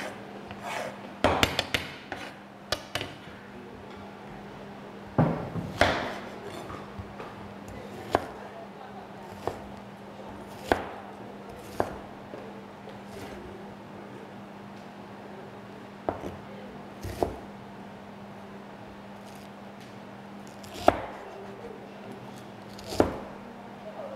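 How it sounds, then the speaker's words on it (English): A knife chopping onion on a board, with sharp irregular taps scattered throughout, some in quick clusters and others spaced several seconds apart, close and distinct over a faint steady hum. "I'm going also cutting my onion."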